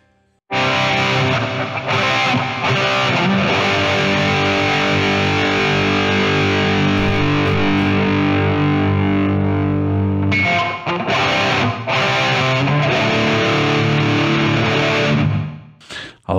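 Audio Assault Sigma EX amp plugin playing a high-gain distorted electric guitar with reverb, loud dense chugging chords held almost continuously, a brief break near the end of the phrase, no talking.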